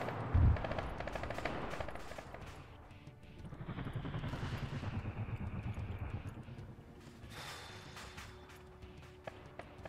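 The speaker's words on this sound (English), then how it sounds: "He's opening fire on him." Arma 3 firefight in which an enemy opens fire on a Leopard tank platoon, with bursts of automatic gunfire and rattling shots over a low mechanized rumble, some rounds near and others more distant.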